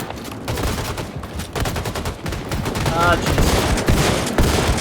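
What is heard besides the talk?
gunfire in Wolfenstein II video game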